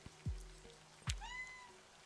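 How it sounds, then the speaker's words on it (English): A winged cat gives a soft, rising meow near the middle, a faint and brief call over a quiet background, with a couple of low thumps around it. "It's a winged cat."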